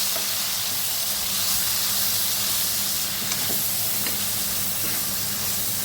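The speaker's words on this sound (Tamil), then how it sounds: "இந்த தக்காளியை 1 நிமிஷம் வதக்கிக்கலாம்" Chopped tomatoes sizzle in a pan on a high flame after a clove and a cardamom pod go in, making a steady, loud, hissing crackle with no pauses and no talk.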